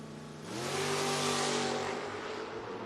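A 1968 Plymouth Cuda and a 1973 Chevy Nova launch in a footbrake drag race, engines swelling quickly into a loud, rising rev that holds briefly at full roar, then eases slightly.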